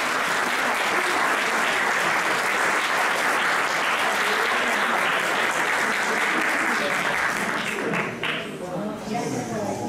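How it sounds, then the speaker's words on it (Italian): Sustained audience applause at a local sports awards ceremony in Melendugno, loud and dense for the full ten seconds, easing slightly near the end while a voice begins to speak over it. "ti faccio un applauso personale."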